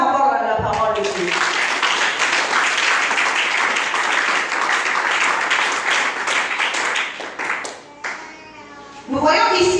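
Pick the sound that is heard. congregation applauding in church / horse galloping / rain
congregation applauding in church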